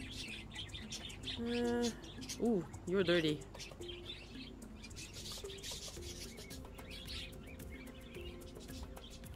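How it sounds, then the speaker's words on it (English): Pet birds in Exotica: Pet Shop Simulator give a short run of clear, tonal chirps and warbling calls close by. A voice talks over and after them amid light game background sounds. "Chirp, chirp, chirp."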